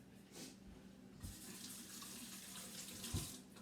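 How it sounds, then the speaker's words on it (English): Hands washed under a running kitchen sink tap, a steady close hiss of flowing water with soft splashes and a couple of brief knocks, no voices. "Now let me set that aside and wash my hands really quick."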